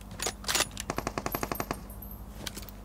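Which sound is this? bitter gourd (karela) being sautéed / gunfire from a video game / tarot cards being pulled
gunfire from a video game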